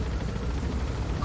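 Helicopter in the Metal Gear Solid V video game: a steady low rotor rumble and whine, continuous and fairly loud across the short stretch, with no talk over it.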